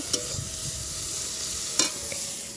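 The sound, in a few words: shrimp frying in oil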